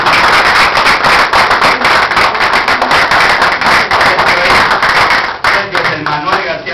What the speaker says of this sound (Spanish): Le vamos a dar un aplauso a Sergio, que salió.